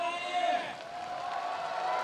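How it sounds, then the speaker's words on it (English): Crowd roaring and cheering at the 2018 UCI Trials World Championships men's 20-inch event in Chengdu, China: a dense, steady wash of noise lasting the whole moment, with a commentator talking over it. "You can hear the crowds absolutely going crazy."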